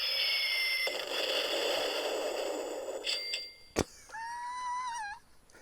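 Toy button sound from the Fallout Anthology box imitating a falling nuke: a high whistling descent with hiss, a sharp crack, then warbling electronic tones, thin and tinny like a small speaker.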